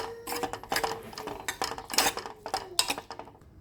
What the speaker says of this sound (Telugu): ఉల్లిగడ్డ వేసి కలపాలి